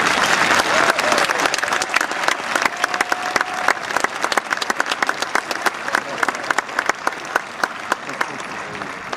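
A large crowd at a naval academy commissioning ceremony applauds loudly and steadily, a thick roar of clapping with distinct individual claps standing out, mixed with cheering voices throughout.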